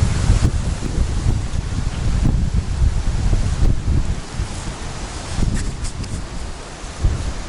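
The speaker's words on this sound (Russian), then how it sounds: "Ужасный ветер, честное слово." Strong wind roars steadily against the microphone outdoors near a cabin, with gusty rumbling buffets and rustling throughout, no voices.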